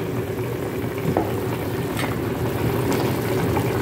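A pot of mixed vegetables with pork and okra boils steadily, giving a continuous bubbling hiss with a few soft clicks and knocks and no talking.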